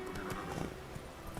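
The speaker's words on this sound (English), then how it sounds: "Run, Roach" A horse gallops in The Witcher 3 video game, its hooves clip-clopping in a quick, steady rhythm at close range over low game ambience.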